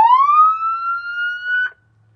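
An emergency vehicle siren on its wail tone, one long clean electronic sweep rising and then holding steady before cutting off sharply, loud and alone.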